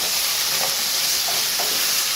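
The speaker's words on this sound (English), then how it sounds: "we're just going to allow this to stir fry until these chunks are crisp tender" Kohlrabi chunks stir-frying in a pan with dried parsley flakes, giving a steady close sizzle and hiss with a few faint scraping stirs, no voices.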